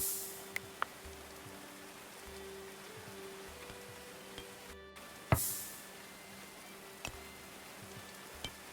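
Steady rain patters in the medieval colony-building game Going Medieval, a soft continuous hiss with occasional sharper drops and clicks, heard alone without speech.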